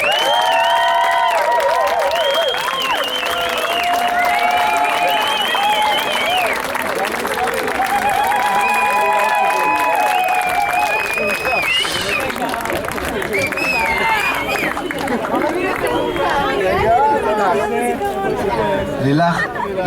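A ceremony crowd applauds and cheers for a happy couple. Continuous clapping runs under lively chatter and overlapping voices throughout.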